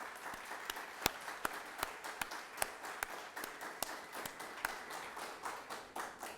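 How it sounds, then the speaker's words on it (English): Graduates and guests at an adult learner graduation ceremony clap steadily together, a dense round of applause with sharp individual claps standing out close by throughout. "give yourself a round of applause"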